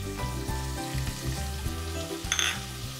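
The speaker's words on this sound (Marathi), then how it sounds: "त्यानंतर आपण ह्याच्यात पायनॅपल घालणार आहोत।" Pineapple slices and capsicum sizzle in a pan for pineapple pulao, a short burst of busy frying crackle with a few sharper spits near the end.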